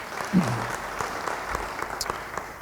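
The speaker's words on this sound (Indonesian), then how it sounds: "Beri tepuk tangan yang baik bagi Tuhan." A congregation at an online Bible study service applauds, with moderate, steady clapping continuing under a brief faint vocal sound.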